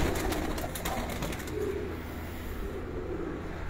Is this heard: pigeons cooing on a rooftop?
yes